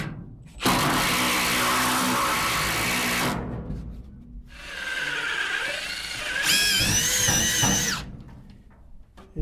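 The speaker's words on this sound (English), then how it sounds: "Just have to drill these slow or it'll burn the tips off of them" Drill boring slowly through metal with expensive screw-type bits, sometimes catching a weld, in two long loud bursts with a pause between, the second ending in a rising whine.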